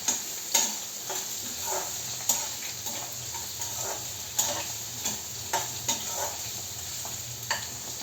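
Paneer frying in a pan with green chillies and capsicum, giving a soft steady sizzle with light, irregular clicks and taps from stirring throughout.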